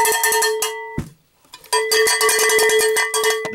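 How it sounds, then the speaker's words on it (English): Metal cowbells struck in rapid repeated hits, bright and ringing, loud and close, with a brief pause near the start before the clanging resumes at a slightly different pitch. "no two cowbells sound the same"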